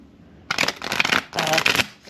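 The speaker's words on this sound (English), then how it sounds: "My husband always yells at me for shuffling cards this way." A deck of tarot cards is riffle-shuffled close by, with two quick rippling bursts of flapping, clicking cards separated by a brief pause, and no one speaking over them.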